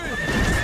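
A cartoon horse gives a short, bright neigh, close and fairly loud, during an animated chase scene.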